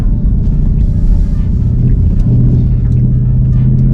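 A manual Ford Mustang GT accelerates in first gear, giving a deep, steady engine rumble close by that holds without a break and carries no talk.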